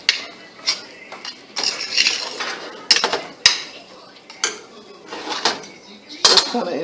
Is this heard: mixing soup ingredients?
yes